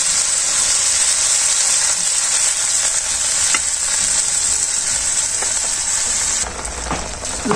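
Greens frying in a pan give a loud, steady sizzle that runs throughout, with a few brief stirring scrapes and a slight drop in intensity near the end.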